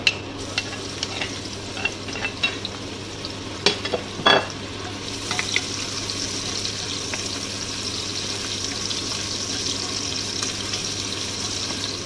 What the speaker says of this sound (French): je vais faire revenir les oignons dans mon huile